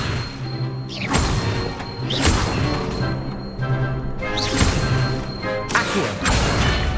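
Levitation spell casting in the video game Hogwarts Legacy, a series of whooshing magical bursts and heavy thumping impacts recurring roughly every second or two over a low rumbling background.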